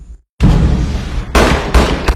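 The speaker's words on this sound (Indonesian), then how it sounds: "Elisa menembak Ryan dengan 3 tembakan" Three loud, close gunshot-like blasts in quick succession, each with a harsh crack and a booming tail, after a moment of silence.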